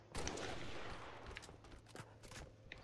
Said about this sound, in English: Taking fire from the side.